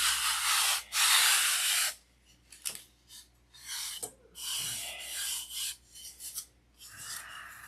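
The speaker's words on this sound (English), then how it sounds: "So we're doing 80 grit here, so you want to ease up on it because you don't want to overshoot it." Hand sanding of a wooden model airplane stabilizer with 80-grit sandpaper, close rasping strokes in uneven bursts, with two long strokes first and then a run of shorter rubs separated by brief pauses.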